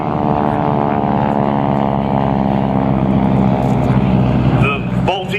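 A propeller aircraft at an air show drones loudly and steadily with a strong harmonic engine tone. A public-address voice talks over the sound for the whole stretch.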